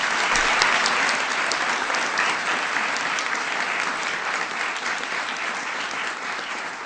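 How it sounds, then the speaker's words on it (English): A big round of audience applause for a student at a White House science fair, loud, dense and steady clapping throughout with little letup. "Give Harry a big round of applause."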